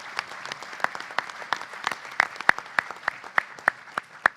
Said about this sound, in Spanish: merece un aplauso la gente de Biofarma, todo el equipo